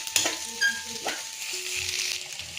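Curry leaves hit ivy gourd frying in a pan and set off a sharp, close sizzle, with faint stirring scrapes over a constant crackle.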